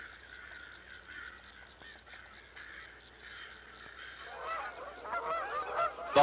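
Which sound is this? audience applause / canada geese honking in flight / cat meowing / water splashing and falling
canada geese honking in flight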